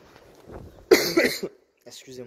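A single sharp cough breaks up outdoor talk during window-sill painting work on a windy, dusty day, and the talking picks up again afterward.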